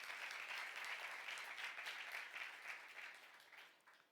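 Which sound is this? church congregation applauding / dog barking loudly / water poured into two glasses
church congregation applauding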